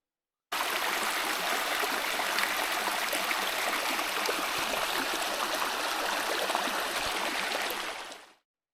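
Creek water flows in a constant, full rushing wash near at hand, a broad steady stream sound that starts abruptly and fades out at the end, with no voices.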